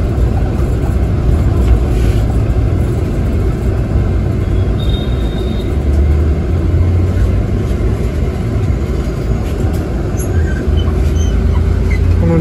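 A JBM electric bus drives through Mumbai, India, heard as a loud, continuous low rumble of road and cabin noise with a faint whine, steady from start to finish.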